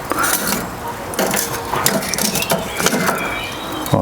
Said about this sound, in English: we can then start rearranging some of these charcoal